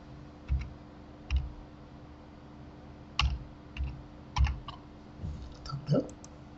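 Text being typed on a phone or computer, heard as a handful of soft, separate taps and clicks spaced unevenly over a low steady hum, close and without talk.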